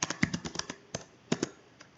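Someone types a change-directory command on a computer keyboard, a quick run of crisp, close keystrokes followed by a couple of heavier taps, with no voice over it.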